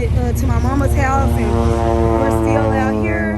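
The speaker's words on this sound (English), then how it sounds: "That's a plane that you hear flying over a crop duster." A crop duster plane flying over open country, its propeller engine a steady, loud drone throughout while someone talks over it outdoors.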